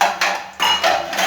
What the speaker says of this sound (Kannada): ಸ್ವಲ್ಪ ಸಾಸಿವೆ ಹಾಕಿದೆ.